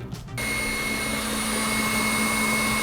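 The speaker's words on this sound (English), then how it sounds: "It's gonna keep on whisking." An electric mixer whisks egg whites with cream of tartar for French macarons, starting after a brief quiet moment and then running as a steady, loud, droning whir with a constant motor hum.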